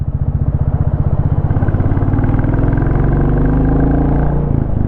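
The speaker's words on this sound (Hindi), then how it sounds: "एग्जॉस्ट में जो थंब साउंड निकल करके आता है उसकी आवाज़ बड़ी प्यारी है।" A 2025 Royal Enfield Classic 350 engine thumps steadily and loudly up close, its deep exhaust pulses rising in pitch as the bike picks up speed.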